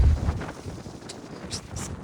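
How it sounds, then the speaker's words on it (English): Strong outdoor wind buffets the microphone in a continuous low rumble with gusts, loudest at the start, with a few brief higher hissing bursts toward the end. "It's very, very windy out here today."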